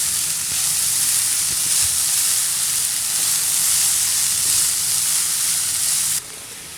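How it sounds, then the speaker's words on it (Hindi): Vegetables and peas stir-fry on a medium flame for chicken macaroni, giving a continuous loud, hissing sizzle with faint scraping of stirring, steady throughout and cutting down slightly at the end. "मीडियम फ्लेम पर सारी चीज़ों को हम 1 से 2 मिनट चलाते हुए पकाएंगे"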